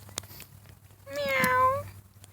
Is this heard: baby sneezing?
no